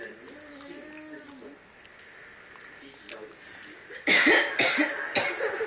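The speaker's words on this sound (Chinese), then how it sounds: "真的我要咳嗽了" Harsh, loud coughing from a woman who choked on soup, three or four close bursts in quick succession, after quieter talk and faint chatter.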